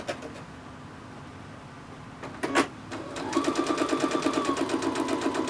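A sewing machine starts up and stitches a mini quilt block, settling into a fast, even run of needle strokes close by after a few short clicks and a brief whir.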